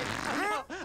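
A cartoonish fart sound effect in a Power Rangers Megaforce episode, a wobbling, rising-and-falling tone lasting under a second with a brief dip before a second burst, fairly loud and heard alone.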